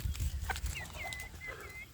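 Young free-range village chickens in a netted pen peep with thin high calls over a low rumbling background, faint and continuous through the moment.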